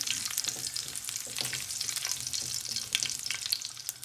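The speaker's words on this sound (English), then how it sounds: "Put a cinnamon stick. Give it a stir." Pumpkin and sweet potato subji with a cinnamon stick and fennel seeds sizzles steadily in a pan, with a spoon scraping and stirring through the hot fat in repeated close strokes.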